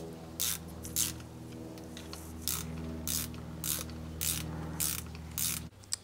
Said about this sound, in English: Just little by little, working my way around in that star pattern and tightening it up.